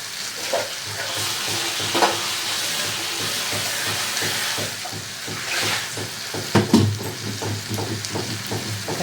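Brinjal curry sizzling and frying in a pan while a spoon stirs it, a steady hiss with repeated soft scrapes and knocks, close, no talk.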